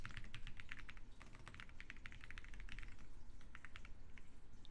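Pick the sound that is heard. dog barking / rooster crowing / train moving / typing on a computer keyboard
typing on a computer keyboard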